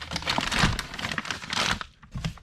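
Cardboard and plastic packing crinkle and tear close up as a Wilwood brake caliper box is opened, a busy rustle with a short pause near the end.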